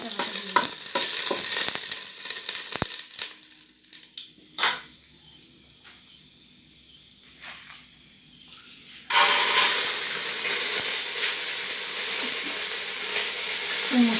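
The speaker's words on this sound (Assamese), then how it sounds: "এয়া পাঁচফোৰণ দি দিলোঁ তেলত, তাৰপিছতে তেজপাত দুটাও তেলতে দি দিলোঁ।" Panch phoron spices and two bay leaves sizzle and crackle in hot oil. The frying starts soft and patchy, then becomes a loud, steady hiss partway through, with no talking.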